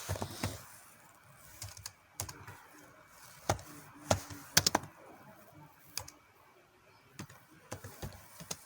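Keys clacking on a computer keyboard as a name is typed, in irregular bursts of separate taps with pauses between, fairly close but quiet, no voice over it.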